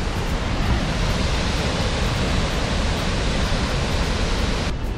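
Flooded Grand Falls waterfall in northern Arizona, brown floodwater pouring over cliffs in a dense, steady, loud roar of rushing water that continues unbroken throughout.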